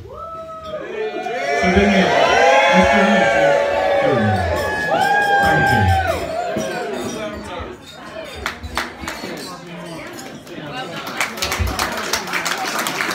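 Wedding guests at a reception cheer loudly after a best man's toast, with a burst of crowd cheering and whoops, followed by scattered shouts, clapping and chatter.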